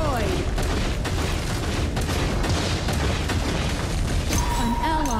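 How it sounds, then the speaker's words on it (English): Enemy tower destroyed in the ROV mobile game, a burst of heavy booms and crackling blasts layered with game effects, loud and dense throughout. "Your tower has been destroyed"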